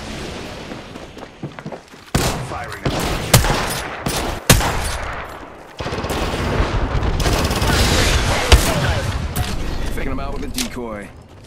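Rapid bursts of video-game gunfire with booming shots, loud and close, under a player's radio-style callouts.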